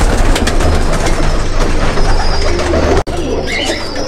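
Imported red-eyed pigeons of an Indian bloodline coo in a loft, a steady chorus of low murmuring calls filling the space with a brief dropout near the end.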